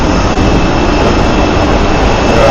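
Jet airliner engines on a runway at Ho Chi Minh City airport: a loud, constant, close roar of heavy turbines. The roar holds without break throughout, with no voices heard.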